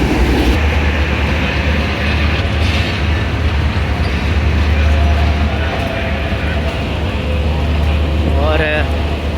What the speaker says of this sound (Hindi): सामने रेक आ गया तकरीबन 1 घंटा लेट